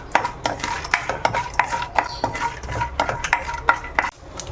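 A spoon stirs ground peanuts through a pan of curry leaves rice, giving quick, rhythmic scraping clinks against the metal pan, close and fairly loud, with no talking.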